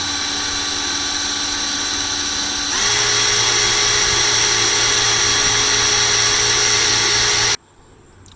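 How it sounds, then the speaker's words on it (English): Small drill bit boring pilot holes into the sheet-metal door of a 1992–97 Ford F-150 pickup, a loud steady motor whine that rises in pitch and intensity as the bit bites, then cuts off abruptly. "I always like to drill pilot holes with a smaller drill"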